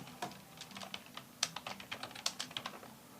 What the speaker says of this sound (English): Type in U shield bow